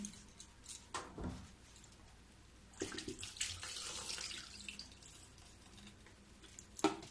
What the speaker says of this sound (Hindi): इसमें मैं फिर से पानी डालूंगी।